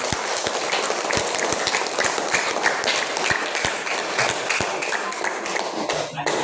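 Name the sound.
audience applause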